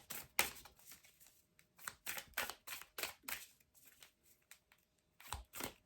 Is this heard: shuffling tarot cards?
yes